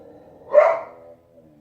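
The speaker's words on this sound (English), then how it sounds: "They're barking at a stubby-legged cat." A single dog bark rings out close by, short and sharp, followed by a faint trailing tone.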